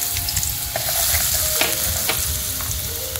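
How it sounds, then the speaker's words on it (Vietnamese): Minced garlic and shallots fry in hot cooking oil in a pan, a loud, continuous close sizzle with a few scraping stirs and no voices. "khi dầu ăn đã nóng lên thì chúng ta sẽ cho tiếp đó là phần tỏi băm với lại hành tím băm."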